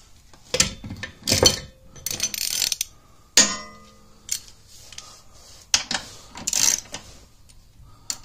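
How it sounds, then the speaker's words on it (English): Ratchet running bolts in: irregular bursts of quick metallic clicking and rattling, close and fairly loud, separated by short pauses and brief clanks of the tool against metal. "I do need to get my ratchet, and we'll run this in there."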